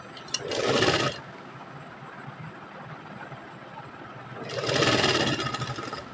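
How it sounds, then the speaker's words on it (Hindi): A sewing machine stitches folded piping on a baby girl's top in two steady whirring runs, near and fairly loud, with a quiet pause between them and no talk. "अब इसे उल्टा कर लेना है और इस तरीके से पाइपिंग को फोल्ड करके सिलाई लगानी है।"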